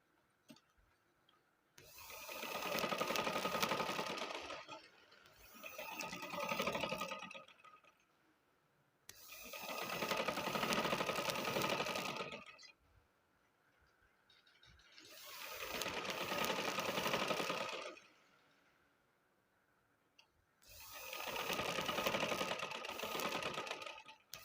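A sewing machine stitches a kids' trouser in five loud, close bursts of rapid whirring, each a few seconds long and separated by short quiet pauses.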